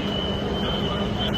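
Metro train at Nagole station on the Hyderabad Metro, its steady rumble filling the clip with a constant tonal whine over broadband noise, close and continuous.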